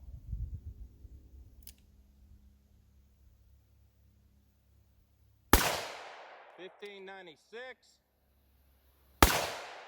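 Two .357 Magnum revolver shots ring out outdoors over a chronograph, loud abrupt cracks about four seconds apart. Wind buffets at the start, and someone speaks briefly between the shots.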